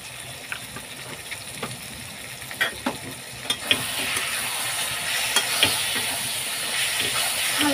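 A pickle mixture with turmeric and citric acid is stirred in a hot pan, with sizzling and hissing that swells partway through and scattered scraping knocks from the spoon, close up and without voices.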